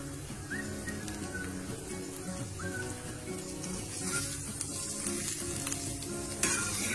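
Mashed potato filling for aloo bonda is stirred in a hot pan, giving a close steady sizzle with repeated scraping and knocking of the spoon against the pan.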